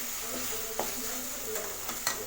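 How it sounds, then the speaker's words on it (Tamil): Tomatoes and mint sauté in a pan for mutton dalcha, giving a soft continuous sizzle broken by a few stirring scrapes and taps. "புதினா தக்காளியெல்லாம் சேர்த்து நான் நல்லா வதக்கி விட்டுட்டேன்"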